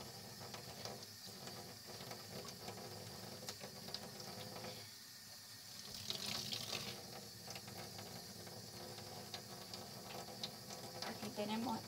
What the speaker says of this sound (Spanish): lavo mi tabla de picar. Hay que lavarla bien lavada.